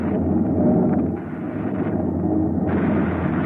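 A spaceship's weapon fires in a radio drama effect, a sustained roaring blast that holds loud and dense for several seconds, dipping briefly and then surging again with added hiss.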